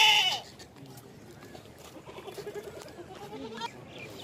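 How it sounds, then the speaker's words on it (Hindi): A male goat of the pure Rajanpuri breed on a farm bleats in a series of wavering cries at moderate distance, preceded by a brief loud burst of noise at the start. "ये बकरा दिखा रहे हैं आपको"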